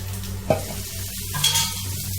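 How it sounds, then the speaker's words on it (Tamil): Ragi roti cooking on an oiled griddle with oil poured around its edges, giving a steady close sizzle, a sharp tap near the start and a brief hiss burst midway, with no voices. "கொஞ்சம் சுற்றி எண்ணெய் ஊற்றிக்குவோம்"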